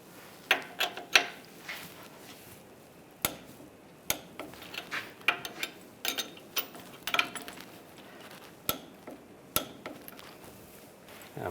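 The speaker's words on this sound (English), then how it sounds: "Now we're going to torque these bolts to 37 foot-pounds." Torque wrench clicking as bolts are tightened to spec on a 2007-2013 Chevrolet Silverado 1500 front axle, with sharp mechanical clicks and ratchet sounds in irregular bursts, close up with no talking.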